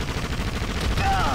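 Turret gunfire in the Indiana Jones and the Emperor's Tomb video game: a dense, continuous burst of rapid shots, loud and close, with a brief whine near the end.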